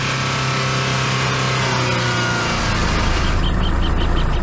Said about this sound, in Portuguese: Precisamos de um trator para sair do atoleiro.